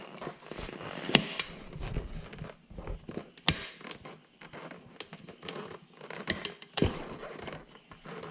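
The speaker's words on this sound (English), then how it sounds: "You can hear the rubber breaking away from the steel." Irregular crackling and tearing snaps with sharp pops, close up, as a Honda Z50 or CT70 rubber tire rips and peels away from its steel rim, no voices.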